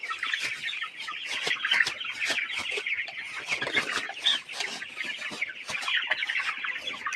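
Chickens on a poultry farm cluck and chatter continuously in a busy flock, a steady layered babble of many birds at moderate distance with no voices.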